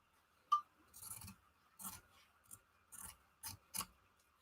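Scissors snip through scrap fabric strips for junk journal covers, making a quiet series of about seven short, crisp cuts at an uneven pace with no talking.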